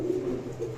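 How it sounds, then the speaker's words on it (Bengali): A yellow Lakha female pigeon coos softly in a low, continuous murmur, close by with no voices over it. "এটা হচ্ছে হলুদ লক্ষার সম্পূর্ণ রানিং একটা মাদি কবুতর।"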